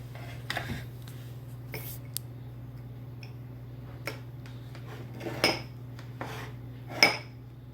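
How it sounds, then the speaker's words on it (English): A spoon scoops berries into a bowl while yogurt parfaits are made, producing sparse clinks and scrapes of metal on the dish, with quiet room tone and a low hum between the taps. "scoop some berries into the bowl"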